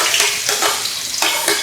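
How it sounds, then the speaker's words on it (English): Loud, continuous sizzling of onions frying in a pan for a mackerel sauce, with a few bursts of stirring. "sizzle"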